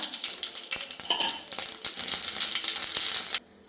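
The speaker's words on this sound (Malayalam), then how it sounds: "അപ്പോൾ നമ്മുടെ വെളിച്ചെണ്ണ നന്നായിട്ട് ചൂടായിട്ടുണ്ട് അതിലേക്ക് നമുക്ക് കടുകിട്ട് കൊടുക്കാം" Mustard seeds crackle and spit in hot coconut oil, a dense close-up patter of sharp pops with a few metallic clinks, cutting off abruptly near the end.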